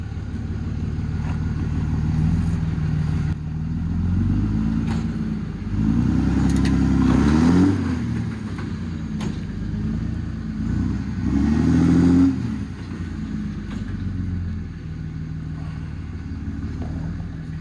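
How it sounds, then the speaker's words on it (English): A 1968 Pontiac GTO engine rumbles low and heavy as the car drives up onto a trailer, idling loudly with two swelling throttle blips midway, close by and without voices. "Hey, it's coming up on the trailer."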